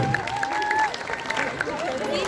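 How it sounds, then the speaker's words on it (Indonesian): Audience applause and crowd noise ripple through a school live talk show as student guests are welcomed, irregular clapping mixed with a host speaking over it. "Beri tepuk tangan dong"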